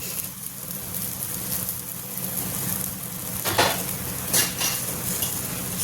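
Okra and ridge gourd sizzle slowly on a tava over a low gas flame, a steady soft hiss broken by two brief clinks of a utensil against the pan.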